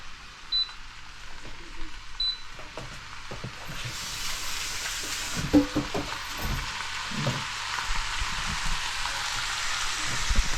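Bacon sauce frying and being stirred in a pan, giving a soft continuous sizzle that swells after a few seconds with occasional scraping stirs, and no voices.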